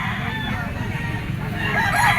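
Yellow-legged three-year-old Kelso Sweater gamefowl rooster crowing in a pen, one drawn-out crow at moderate distance rising slightly toward the end.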